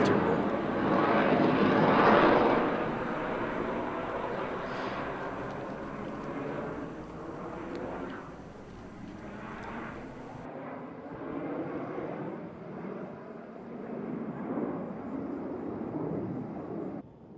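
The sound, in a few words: Blue Angels jet aircraft flying in Delta formation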